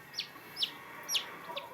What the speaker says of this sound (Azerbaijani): Hani Ayşənin cücəsi, ala.